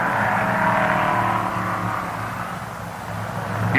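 Drag race cars running at a 1980 NHRA Popular Hot Rodding Championships event, including a roadster, roaring steadily at close range with a sustained engine drone for the whole stretch, swelling slightly at the end.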